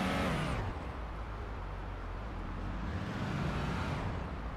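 A video game car engine roars loudly and steadily in Police Simulator: Patrol Officer, a constant low revving rumble with a brief shift near the start and no voices.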